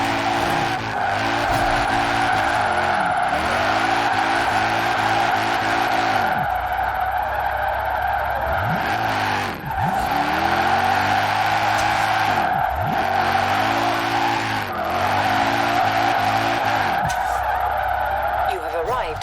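A VW Golf drifting in the Forza racing video game, with loud, sustained tire squeals and a revving engine that rises and falls through repeated slides, running continuously throughout.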